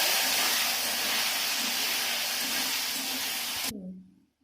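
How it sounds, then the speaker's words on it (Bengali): Diced potatoes fry in hot oil, a loud, steady hissing sizzle close by that cuts off abruptly near the end, leaving a brief low fading tail. "এইটা আমি আলুটা ভেজে নেব, লাল লাল করে ভেজে নিচ্ছি।"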